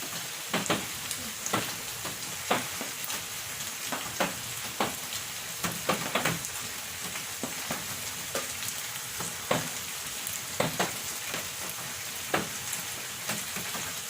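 Beef kalderita with peanut butter frying in a pan as soy sauce goes in, a steady sizzle close up with regular sharp scraping knocks of a utensil stirring throughout, and nobody speaking.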